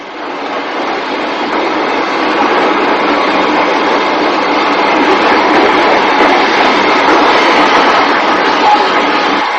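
Steam train running on a line in northern England in the 1950s, with a steady, loud, continuous rumble of wheels and carriages throughout, no talk.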